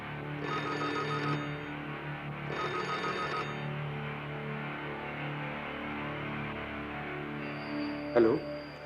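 Old-style telephone bell ringing in a drama scene, two distinct ring bursts about two seconds apart over a low steady hum, followed by a short clatter as the receiver is picked up.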